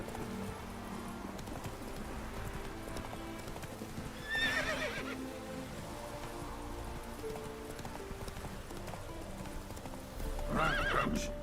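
Horse Roach in the video game Witcher 3, hooves clip-clopping in a steady galloping rhythm throughout, with a couple of loud neighs and whinnies breaking through, one midway and another near the end.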